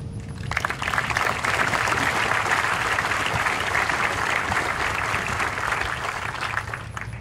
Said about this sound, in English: Please join me in a round of applause for the families of these cadets and for their support